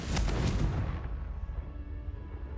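A Confringo blasting spell goes off in a video game, one loud booming explosion that rumbles briefly and then dies away into a low tail.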